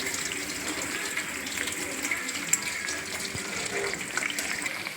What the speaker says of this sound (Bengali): এই দেখেন আমরা পকোড়াগুলো সব তেলের মধ্যে ছেড়ে দিয়েছি, দেখতেই পাচ্ছেন ভাবে বুজবুজ করছে